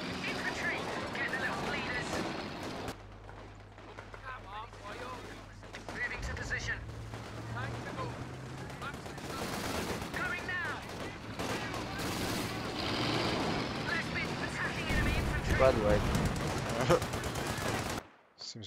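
Rifle and machine-gun fire crackle through a Company of Heroes 2 battle, bursts of shots and distant blasts rolling over a low engine drone for most of the stretch, with game voices speaking over the fighting.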